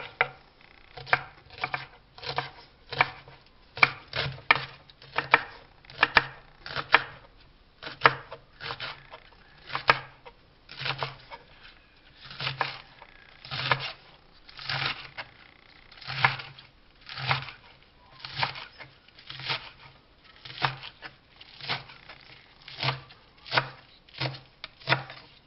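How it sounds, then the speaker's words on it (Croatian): A knife chops spring onions on a board in a steady, fast run of crisp, close thuds that continues for the whole stretch with only brief pauses, and no voices. "Prvo ćemo mladi luk da iseckamo."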